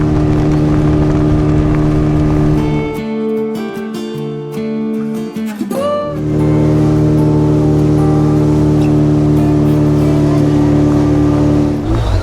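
Motorboat engine on the sea at Digha drones loudly and close, easing off in the middle as the boat turns, then roaring back up to a steady heavy hum.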